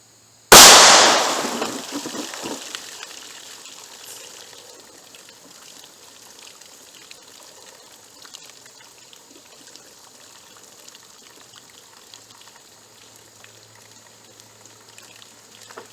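A .45 ACP pistol fires a 230 grain XTP bullet into denim-wrapped water jugs: one sharp, loud gunshot with splash, then a long quiet tail of dripping and trickling water.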